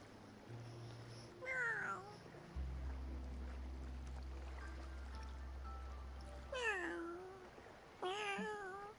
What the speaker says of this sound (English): That's a big cat. Nobody's here. Just this cat.